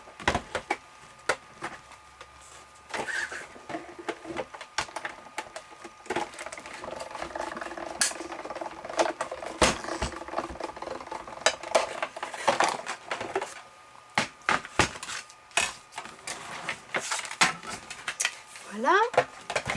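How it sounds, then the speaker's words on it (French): A manual die-cutting machine presses through card with rattling, cranking mechanical clicks and intermittent grinding bursts, close and fairly quiet, with someone talking over parts of it. "Je vais venir découper. Hop, la machine."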